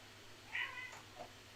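A pet cat named Sophie gives a short, high meow, faint and close, followed by a softer trailing chirp in an otherwise quiet room.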